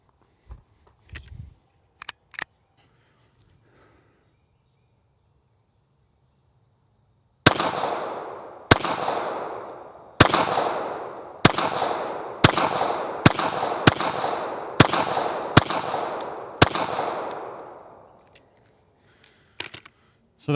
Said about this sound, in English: So that was a bit more of speed shooting, a little bit sloppier hits.